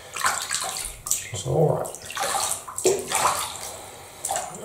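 Bathwater sloshing and splashing as a British Shorthair cat is lowered into a bathtub, with repeated bursts of moving water under close, gentle talk from a person.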